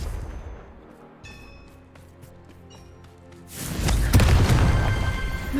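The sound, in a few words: Confringo fire spell blast in Hogwarts Legacy video game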